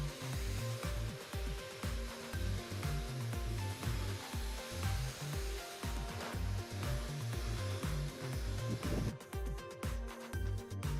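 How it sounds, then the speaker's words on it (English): A pressure washer blasts dirt off a BMW Touring, giving a loud, hissing spray that pulses in an uneven rhythm as the jet sweeps across the car. "turning the pressure washer the other way around, flat, enabled me to blast out the crud."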